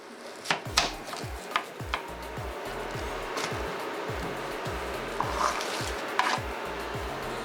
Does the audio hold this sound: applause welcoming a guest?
no